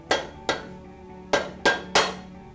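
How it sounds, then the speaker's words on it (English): Rubber mallet tapping the timing gears of a Brodie BiRotor Plus measuring unit to loosen them during disassembly: five sharp, close knocks at an uneven rhythm with quiet gaps between. "You may need to tap the gears with the rubber mallet to get them loose."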